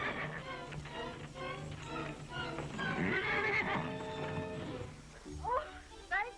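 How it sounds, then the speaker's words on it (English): A horse whinnies loudly in a long, shaky neigh with hooves clip-clopping, followed by people talking over the fading animal sounds. "That horse is wild. Can't be trusted."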